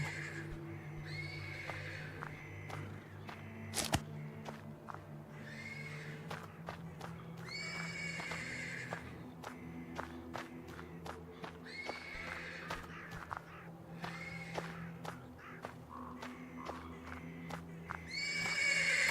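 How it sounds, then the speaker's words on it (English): Horse neighing and whinnying from stables in the video game Black Book, repeated calls over a steady low hum, with faint clip-clop hoof sounds and moderate, slightly distant loudness. "The persistent neighing of a horse can be heard from the stables."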